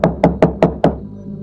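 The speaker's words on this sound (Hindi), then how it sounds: "अर्जुन ने जल्दी जाकर दरवाजा खटखटाया।" Five sharp, evenly spaced knocks on an old wooden door at night, close and loud, then quiet.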